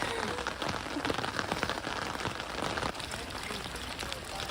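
Steady rain patters on surfaces in a garden, a dense, even hiss of drops close by with no voices.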